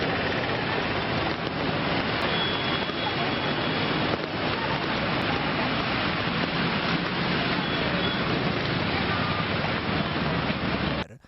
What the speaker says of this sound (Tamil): மணப்பாறை மற்றும் சுற்றுவட்டார பகுதிகளில் கனமழை பெய்தது.